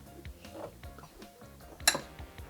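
Lentil salad with tomato being mixed in a bowl, with soft repeated clinks and scrapes of a utensil against the dish in an uneven rhythm, close and fairly quiet, with one sharper clink near the end.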